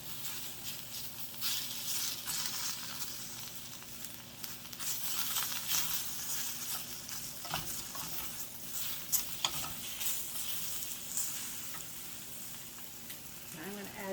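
Mushrooms fry in oil in a pan for a spinach and mushroom frittata, producing a continuous close sizzle broken by crackles and rustling stir strokes throughout.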